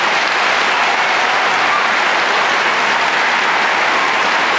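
A graduation commencement crowd gives sustained applause for scholarship recipients, a dense, even roar of many hands clapping at close range with no talk over it.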